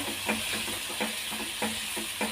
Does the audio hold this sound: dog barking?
no